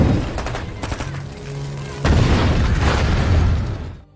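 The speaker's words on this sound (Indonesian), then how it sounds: "tiba-tiba tempat itu diserang oleh kelompok pemberontak hingga terjadilah aksi tembak-tembakan" Gunfire and explosions from a rebel attack in the film Machine Gun Preacher: loud booms and rapid bursts of shots, with a heavy blast midway that sustains a dense rumbling barrage before fading out.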